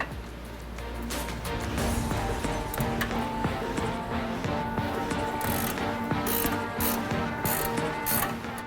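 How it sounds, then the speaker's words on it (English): A wrench and socket ratchet off a sway bar end link nut on a Ford F150, a continuous close clicking of the pawl with faint workshop noise around it. "Use an 18mm wrench, then an 8mm socket to keep it from spinning."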